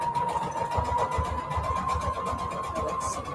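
A sewing machine runs a decorative stitch on paper ribbon, giving a close, steady motor whir with fast rhythmic needle clatter throughout the short stretch, with no voices.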